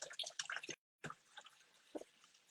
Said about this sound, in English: I'm going to put 4 tablespoons of warm water